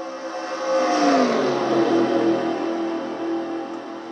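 Race car engines in the NASCAR Racing 2003 video game, identically prepared 1987 Chevy Camaro body IROC cars at Daytona, drone steadily at about 180 mph, a loud sustained roar with a pitch sweep as cars pass.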